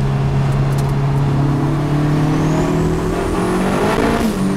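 Car with a Holset turbo accelerating hard in third gear at around 100 km/h: a loud, steady engine drone climbing in pitch, with a faint rising turbo whistle building over it near the end.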